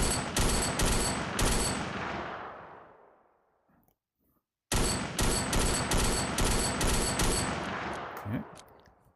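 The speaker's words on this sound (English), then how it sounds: "Let's do a good old AK-47." AK-47 gunfire in a VR shooting game, Commando Strike Ops on Meta Quest: two long bursts of rapid, loud automatic shots, separated by a brief silence, with no talking.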